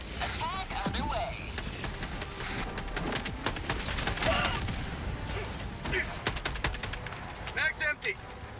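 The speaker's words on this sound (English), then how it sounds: "Requesting air support. Attack underway." An air support strike in Helldivers 2 brings dense, rapid gunfire and impacts, a busy barrage of cracks and thuds running throughout, with voices speaking at moments over the din.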